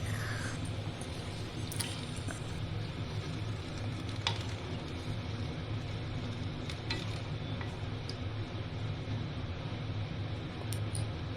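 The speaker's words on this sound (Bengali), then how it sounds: "এটাকে আমি এবার ভালোভাবে নেড়ে নিয়েছি" A cauliflower and potato curry is stirred in a pan over steady, continuous sizzling, with occasional scrapes and light ticks across a constant cooking hiss.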